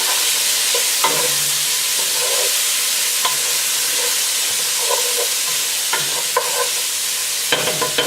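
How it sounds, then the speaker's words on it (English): Minced garlic stirred into a sizzling one-pot Cajun shrimp and sausage pasta, a steady loud frying hiss with repeated scraping and clacking of the spoon against the pot, no voices. "Stir that in there."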